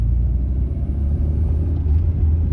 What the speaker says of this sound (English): The car idles perfectly, runs perfectly.